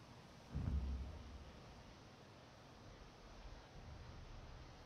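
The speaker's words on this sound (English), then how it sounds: "lightning storm" Thunder from a lightning storm in Elder Scrolls Online, a single low rumbling boom near the start that fades into a steady wash of rain-like noise, with a faint second rumble later.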